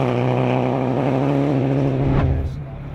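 A front-wheel drive Citroën DS3 rally car engine revs hard on a rally stage, holding a loud, close, steady note before it drops sharply as the driver lifts off near the end.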